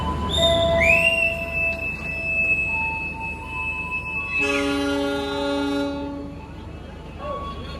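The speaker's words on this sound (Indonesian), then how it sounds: "Kereta api Pandalungan dari Jember tujuan akhir Gambir." A Pandalungan executive-class passenger train, stainless steel cars running from Jember to Gambir, sounds its horn in long sustained tonal blasts, first a single rising tone then a louder chord, over steady rumbling rail noise close by.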